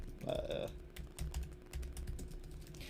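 Rapid clicking keystrokes on a computer keyboard come in bursts, close and fairly quiet, with a brief vocal sound near the start.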